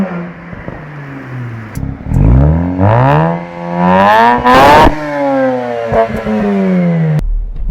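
A Mazda car engine revs loudly and up close, its pitch sweeping up in several throttle blips and then settling back to idle, with no talk over it.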